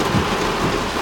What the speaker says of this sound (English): I'm yelling because the rain is so loud I can barely hear myself talk.